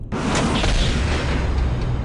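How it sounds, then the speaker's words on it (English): A Titan cannon fires in Warhammer 40k: Dawn of War – Dark Crusade, a single sudden, loud blast that rolls on as a heavy, roaring rumble. "On my command, fire the Titan cannon."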